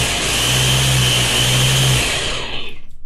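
A blender whirs loudly at high speed for about two seconds making a green smoothie, then winds down and stops.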